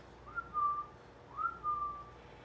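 A person whistles two short, rising-then-steady notes, quiet and fairly close, with a pause between them.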